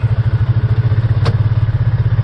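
A Mule utility vehicle creeping backward slowly in reverse with four-wheel drive engaged, its engine giving a steady pulsing low rumble close by, with one brief sharp clack near the middle and no talking.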